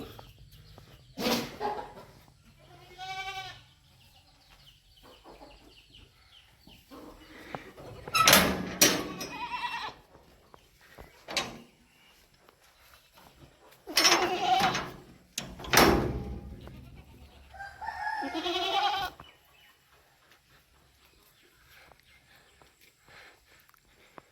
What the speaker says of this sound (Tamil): இதுதான் நம்மளுடைய ஆட்டு பண்ணை